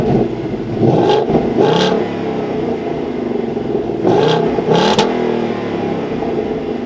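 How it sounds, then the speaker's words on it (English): A 2024 Ford Mustang GT Premium Performance engine is revved from idle in two pairs of sharp, loud blips that rise and fall, with a steady rumbling idle running between them and no voices. "let's take a listen to more of those revs."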